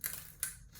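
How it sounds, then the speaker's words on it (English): Foam board crackling as it breaks away along a wing piece: two brief, sharp crackling snaps about 0.4 s apart, quiet and close, with faint rustle between. "That's the foam breaking away."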